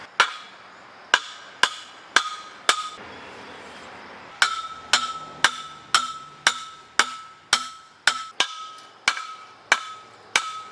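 Old poles salvaged from a pool are hammered into the ground outdoors: about fifteen sharp, ringing metallic strikes at a steady rhythm, with a short pause partway through, each blow loud and close.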